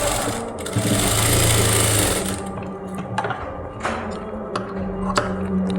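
A sewing machine stitches a puff sleeve in a fast, buzzing run, then slows into short bursts and pauses with a few light clicks.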